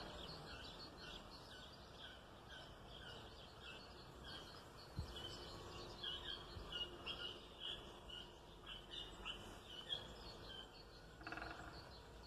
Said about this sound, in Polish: Kurde, ptaki ćwierkają. Wiosna idzie.